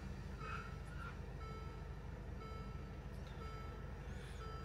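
Truck reversing alarm beeping repeatedly and faintly at a distance over steady low engine rumble, alone with no talk.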